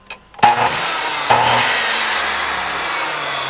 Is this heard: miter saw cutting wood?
yes